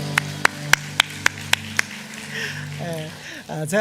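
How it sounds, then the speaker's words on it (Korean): A church congregation at a Sunday morning worship service gives a few sharp, evenly spaced claps, followed by a voice speaking and singing over a sustained low hum. "하나님께 영광의 박수 올려드립니다."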